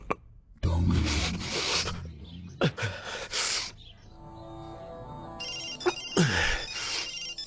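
A mobile phone rings in a tense film scene, its tone chirping through the middle stretch between bursts of louder noise, with a voice heard briefly in between.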